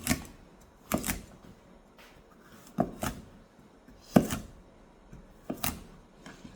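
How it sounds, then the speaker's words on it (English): A knife chopping coconut pieces on a cutting board, with sharp, close cuts landing at irregular intervals about a second apart, plus light scraping and handling noises in between. "you can cut on a cutting board"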